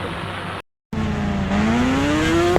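A motorbike engine in the Indian Bike Driving 3D video game, an Apache bike, hums, cuts out briefly, then comes back and revs with a steadily rising pitch.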